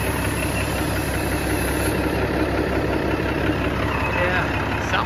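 An old truck engine idles steadily and close by with a belt squealing underneath, a continuous rumbling drone and a thin high whine running through the whole stretch.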